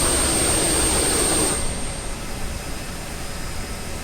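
Airliner jet engine spooling up during a start in a flight simulator game, a loud steady broadband roar with a high whine that drops back to a lower, steadier rumble partway through, with no talk over it.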